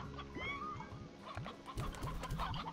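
Chickens cluck and murmur in a Slime Rancher ranch scene, a run of short rising fowl calls repeating over a steady game background hum, fairly close and without talk.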